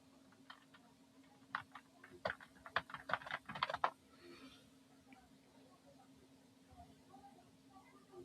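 Tags are typed on a computer keyboard in a quiet, irregular burst of close keystrokes lasting a couple of seconds, soft and light, with a person speaking nearby.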